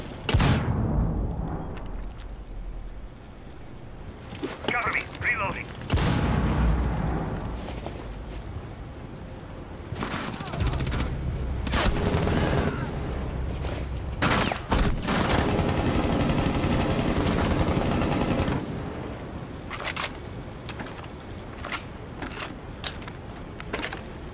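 Video game combat in which a grenade explodes and bursts of gunfire follow, heavy booming blasts and rapid shots filling most of the stretch, loud and close, with quieter gaps between volleys and no speech.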